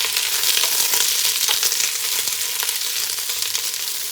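Vegetables hit a hot pot over high heat for lo mein, giving a loud, steady, close sizzle and crackle with no talking.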